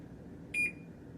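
A kitchen timer being set for bread dough to rise gives one short, bright electronic beep, close and clear over a quiet room, with no talking.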